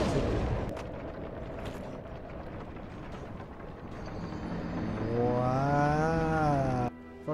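Fire-breathing enemies in a modded Dark Souls game unleash a loud, continuous roaring blast with a rising, wavering tone that swells over several seconds before cutting off abruptly, layered over dense game noise.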